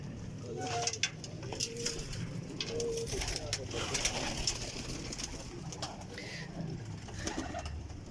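Lal pari high-flying pigeons coo softly in a breeder's loft, with repeated low, burbling calls at moderate distance against a quiet background and faint voices.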